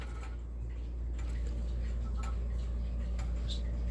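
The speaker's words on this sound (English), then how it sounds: "the ticking in is kind of loud, but I like it that way" A two-weight, five-tube tubular chime grandfather clock ticking with its door open, several sharp, fairly loud ticks at an even pace over a low steady hum.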